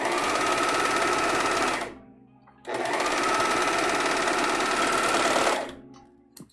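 A serger sewing machine stitches along a fabric edge in two long, loud, steady buzzing runs separated by a brief pause, with a faint click at the end.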